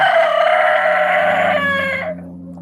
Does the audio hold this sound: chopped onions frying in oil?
no